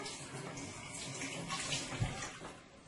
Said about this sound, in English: So you're going to go ahead and you're going to wash that.